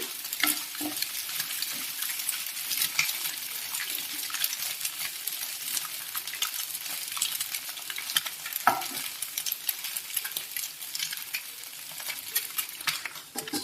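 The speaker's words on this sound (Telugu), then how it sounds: "బ్రౌన్ కలర్ వచ్చేదాకా కలపాలి" Egg being stirred as it fries in an oil-slicked pan for egg fried rice, a steady close sizzle with soft scraping strokes of a spoon running throughout, no voices.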